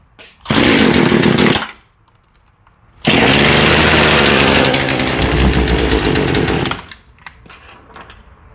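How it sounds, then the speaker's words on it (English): A chainsaw roars loudly nearby in two bursts: a short rev, a pause, then a longer sustained run that eases slightly before cutting off. "it'll allow you to hear exactly what the chainsaw sounds like when it's running."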